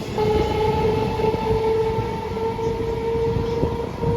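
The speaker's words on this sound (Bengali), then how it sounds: "কৃষ্ণনগর লোকাল আমাদের ছাড়িয়ে চলে গেল।" A Krishnanagar local passenger train rolls past on a parallel track with a steady rumble of wheels and carriages and a sustained horn-like tone, close by and continuous.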